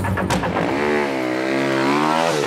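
A racing motorcycle engine for oval track racing revs loudly and continuously, its pitch sweeping up and then settling into a sustained high drone, close and alone with no voices.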